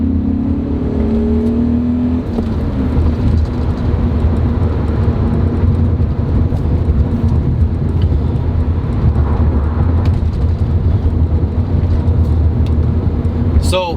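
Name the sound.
BMW M5 engine running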